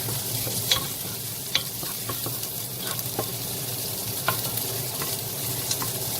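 Onion sautéing in a pan for beef caldereta, a constant close sizzle broken by regular scraping clicks as it is stirred, with no talking.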